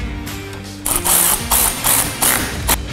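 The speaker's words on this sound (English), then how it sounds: "make sure that you fully tighten it all the way down" A nut being tightened down onto a battery terminal while installing a 2021 Bronco auxiliary switch panel: a run of quick ratchet clicks in several short bursts, close and clear, with no talk.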